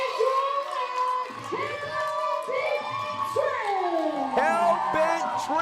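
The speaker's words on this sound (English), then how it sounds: "this crowd is going nuts" Roaring crowd at a pro wrestling student showcase erupts right after a deep stack pin, loud and sustained, with an excited commentator talking over the noise throughout.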